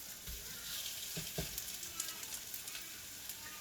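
Zucchini cutlets fry in a pan over medium-high heat with a soft, steady sizzle, broken by a few faint clinks and scrapes of cookware.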